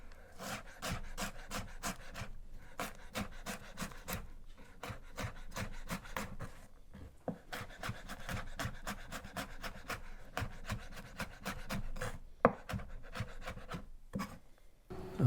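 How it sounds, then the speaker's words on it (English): Rapid knife taps on a wooden cutting board as julienned carrots are diced crosswise, a steady run of close, crisp chops with brief pauses. "now again slicing crosswise to go ahead and get those finely diced"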